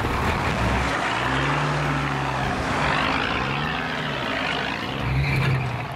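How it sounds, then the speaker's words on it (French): A heavy truck engine roars and labors continuously while straining through deep mud, with the pitch rising and falling in strained surges, loud and close throughout. "Le chauffeur doit mettre toute la puissance de son moteur dans la bataille."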